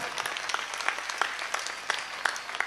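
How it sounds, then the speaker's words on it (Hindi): Crowd applause at a spiritual gathering at Bageshwar Dham, a steady wash of many hands clapping at moderate volume, heard alone without talk. "आपकी तालियां कम थी, आपका संकल्प छोटा था।"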